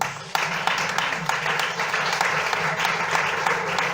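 A church congregation claps together during a Spanish-language worship service praising Jesus, a steady, dense wash of applause that starts abruptly and carries on loudly throughout.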